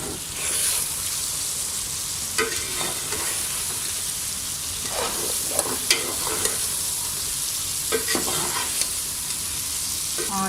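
Stuffed okra (bhindi) sizzling steadily in a hot pan, with continuous frying hiss and occasional stirring scrapes and spatters, no voices.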